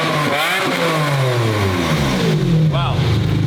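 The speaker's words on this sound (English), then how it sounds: "It has its own little pops and burbles from the factory when you take that stuff off." A car revs while its factory exhaust crackles with pops and burbles, the engine rising and falling in loud sweeps nearby as people talk over it.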